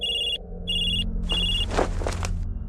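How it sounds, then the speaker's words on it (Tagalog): A cellphone rings indoors with a repeating electronic tone in three bursts about half a second long, followed by a rustling, clattering burst of handling noise. "Biglang nag-ring ang cellphone ko."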